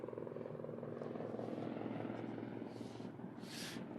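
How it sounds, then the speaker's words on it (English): An air ambulance helicopter passes at a distance, its steady low rotor drone holding evenly under the outdoor background for a few seconds. "Just going to let that helicopter pass."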